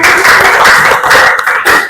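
Hands clapping in a school classroom, a dense continuous patter of many small claps that stays loud and steady throughout with no voices over it.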